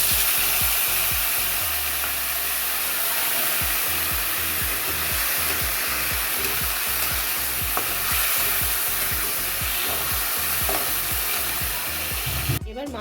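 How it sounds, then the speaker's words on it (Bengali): Flour and water batter poured into a hot pan, a loud, dense, steady sizzle with a fast rhythmic scraping texture throughout and a sharp clatter at the very end, no speech. "এই মিশ্রণটা এর মধ্যে ঢেলে দেবো"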